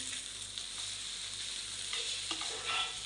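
An omelette frying in a pan gives a steady, close sizzle with faint scraping and stirring noises over it, and no voices are heard.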